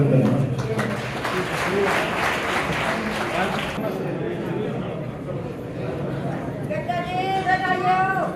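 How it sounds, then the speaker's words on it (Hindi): A crowd claps at a BJP campaign event in a Kurukshetra village, a dense burst of applause for a few seconds that gives way to someone talking over murmuring people. "जोरदार तालियों से अभिनंदन"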